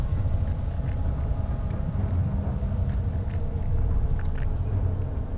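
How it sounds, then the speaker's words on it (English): Wet crunching and crushing, like cockroaches being stepped on, in the horror game Amnesia: The Dark Descent, a steady grinding texture with scattered sharp clicks, close and fairly loud, with no talk. "Do you think that sounds like cockroaches being crunched on"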